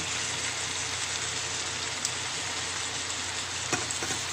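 Chicken sautés in a pan with a steady, close crackling sizzle like light rain, broken by a couple of brief utensil clicks.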